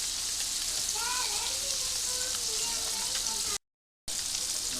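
Blackened salmon frying in a pan, a steady dense sizzle and crackle throughout, with a faint voice underneath and a brief gap of silence near the end.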